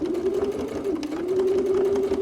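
Sewing machine stitching a leather wallet, a steady continuous motor hum with fast needle rhythm running close and loud throughout, no talk.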